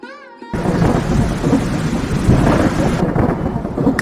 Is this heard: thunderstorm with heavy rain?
yes